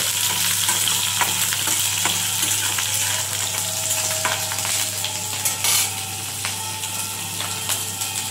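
Nigella seeds, green chili and garlic fry in hot oil in a pan, giving a steady loud sizzle with occasional scraping and stirring clicks close by and no talking.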